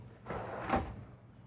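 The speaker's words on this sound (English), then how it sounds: "as I'm closing these doors, soft close on all the cabinet doors, as well as the drawers" A soft-close cabinet door in a 2023 Newmar New Aire 3547 motorhome glides shut with a brief, muffled thud, quiet and close with no voices over it.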